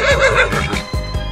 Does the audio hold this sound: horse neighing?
yes